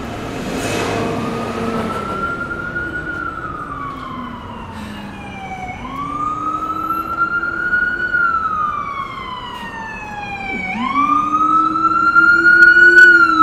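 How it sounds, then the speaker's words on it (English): A loud Presbyterian hospital ambulance siren wails in slow rising and falling sweeps, close by on a New York City avenue, with traffic rumbling underneath and the tone growing louder toward the end. "Presbyterian ambulance."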